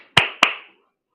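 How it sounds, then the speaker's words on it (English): Two sharp, close hand claps about a quarter second apart, each with a short ringing decay, then silence. "A round of applause."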